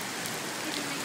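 Steady rain falls in New York City, a dense, even hiss of drops on the streets that stays constant and fairly close throughout with no voices.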